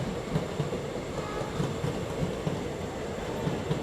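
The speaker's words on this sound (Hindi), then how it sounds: "ये तो पुणे गोरखपुर स्पेशल ट्रेन है, कुछ ज़्यादा ही तेज स्किप करके गई है" Pune-Gorakhpur special express train rushing past at speed on the main line, a steady loud rumble with rhythmic wheel clicks over rail joints, heard close from another train.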